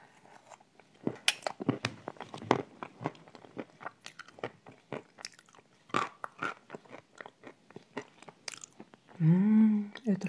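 Someone bites and chews a layered cream dessert close to the microphone, with wet crunchy bites and soft chewing in irregular bursts, and a short vocal sound near the end.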